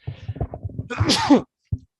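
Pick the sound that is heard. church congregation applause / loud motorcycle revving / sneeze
sneeze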